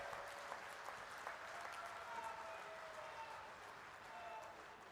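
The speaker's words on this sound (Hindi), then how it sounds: "जोरदार तालियों के साथ में उनका स्वागत करें।" Steady, dense applause from a large audience at a party workers' convention in Jodhpur, welcoming India's Home Minister Amit Shah, sustained and even throughout with crowd murmur mixed in.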